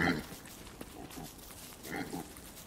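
Pigs grunt in the video game Don't Starve, a few short snorting calls at the start and again near the end over a faint background bed, moderately loud.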